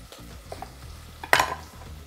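A frying pan rattles and onions scrape as they are tossed, with a sharp sizzling burst partway through against quiet kitchen background.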